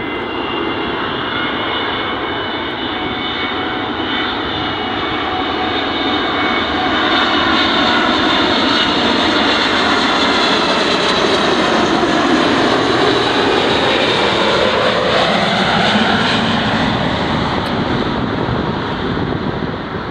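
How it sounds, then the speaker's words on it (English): Boeing 777 arriving from Frankfurt at Dulles, a loud close jet engine roar with whining turbine tones that sweep downward as it passes overhead. "Here comes the Boeing 777 from Frankfurt."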